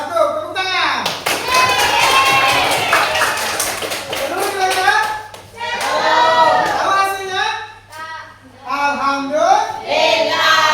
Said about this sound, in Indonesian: Nah, cukup, tepuk tangan.